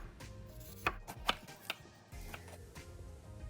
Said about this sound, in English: I'm just going to slice them in very thin slices, just like we did the tomato